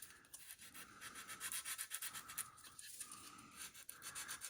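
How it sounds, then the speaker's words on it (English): Fine rhythmic rubbing of sandpaper on a plastic body part of a Revell 1971 Ford Mustang Mach 1 widebody scale model, a steady close scratchy hiss with quick back-and-forth strokes, quiet, with no talking. "I'm just going to sand that off a little bit"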